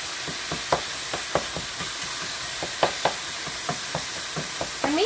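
Finely minced meat fries in a pan with a steady broadband sizzle, broken by repeated sharp clicks of a utensil scraping and stirring through it.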